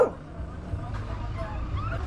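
A small dog yips and whimpers briefly on a street in El Salvador, the short, thin calls sitting over low traffic rumble and faint background murmur.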